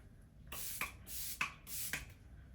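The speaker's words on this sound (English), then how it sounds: "I like to spray my face with a little MAC mixed with NYX Pump It Up spray" Three short, airy bursts of makeup setting spray hiss onto a face in a steady rhythm, close and soft, with a small click at each press.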